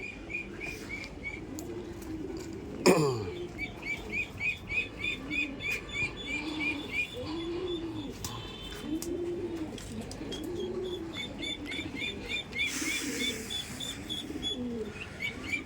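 A dove calls on a duck farm, its soft rounded coos repeating in a steady rhythm at moderate distance, with a brief flutter of wings and scattered chirps from other birds in the background.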